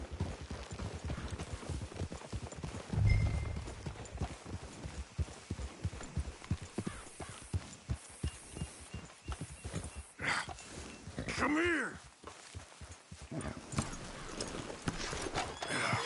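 Several horses trot on clip-clopping hooves throughout, with a loud whinny near the middle and another rising neigh later, close and busy against faint outdoor background.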